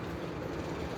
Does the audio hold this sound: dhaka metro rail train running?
yes